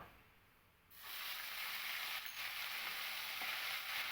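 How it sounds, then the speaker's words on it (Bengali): Asafoetida tempering frying in a pan as ginger paste goes in: a quiet moment, then a sudden loud, steady sizzle that keeps hissing evenly, close and with no talking. "আমি কয়েক সেকেন্ড সময় নিয়ে ফোড়নটাকে কিন্তু খুব ভালো করে ভেজে নিয়েছি এবার এর মধ্যে আমি দিয়ে দেব এক চামচ পরিমাণে আদা বাটা"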